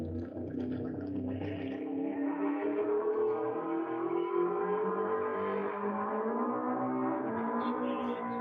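An E Street Roadster race car, number 1986, launches off the line on the Bonneville Salt Flats during Speed Week, its engine roaring and rising through the gears as it pulls away, heard from a distance.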